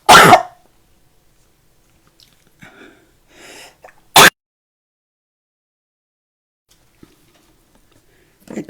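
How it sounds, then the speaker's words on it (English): A single loud, close sneeze bursts out at the start, followed by quiet rustling and a few faint movements, with another short sharp burst near the end, all during a fiddly paper-craft mini album project. "Oh, I feel a sneeze coming on."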